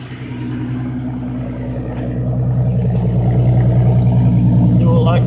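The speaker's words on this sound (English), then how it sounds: "Dual light exhaust, which is really loud." Loud, throaty car exhaust from a dual exhaust rumbling steadily and building slightly in intensity, close by.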